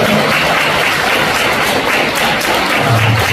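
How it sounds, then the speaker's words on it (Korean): A church congregation applauds loudly during a service, a dense, sustained roar of clapping close by that stays constant the whole time, with a brief low voice near the end. "박수로 하나님께 올려드립니다."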